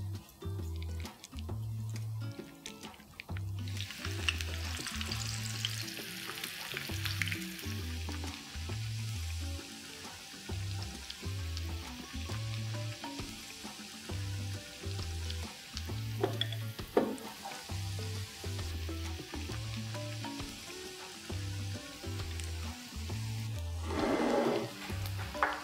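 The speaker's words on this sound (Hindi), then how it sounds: "अब हम अपने पकौड़े फ्राई करेंगे।" Pakoras deep frying in a pan of hot oil, a steady bubbling sizzle that goes on throughout, close and moderately loud, with occasional faint clinks and stirring, no one speaking.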